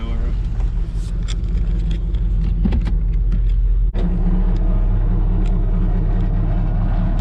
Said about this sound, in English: Underneath the heat shield rattling, I hear a little bit of a snarl.